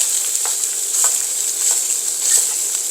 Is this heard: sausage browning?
yes